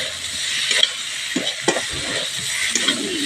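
Curry sautéed and stirred in a pan, giving a steady close sizzle with scattered scraping strokes of the spoon throughout, no voices.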